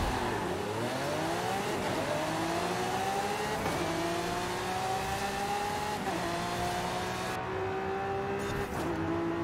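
Sports car engine in the racing game Forza Horizon 5, revving loudly and climbing through gears in repeated rising sweeps with brief shift breaks, steady and close with no talk.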